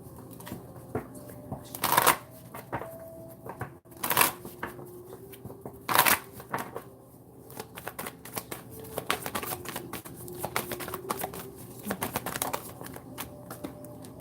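A deck of cards is riffled and shuffled for a pick-a-card reading, with sharp bursts of riffling every couple of seconds between softer handling, close by and alone.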